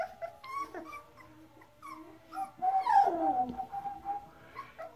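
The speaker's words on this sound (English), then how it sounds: "It's a big yawn." An Airedale Terrier puppy makes a drawn-out whining yawn with squeaky, wavering tones, close by, amid soft little vocal noises.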